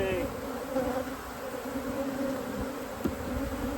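Honey bees buzz steadily around an open, queenless hive, a dense close drone of many insects that carries throughout with little change.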